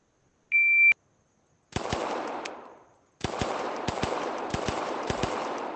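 In the ACE VR shooting game, a sharp electronic shot-timer beep sounds once, then loud, crisp simulated gunshots fire in quick strings, pausing briefly for a reload before a faster volley of several more shots.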